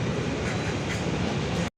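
A long passenger train between Brahmapur and Vizianagaram rumbles steadily and loudly, a dense continuous rolling roar that cuts off abruptly at the end.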